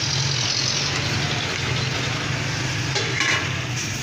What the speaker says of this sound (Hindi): अब इन थोड़ा सा चला लेंगे हम इनको।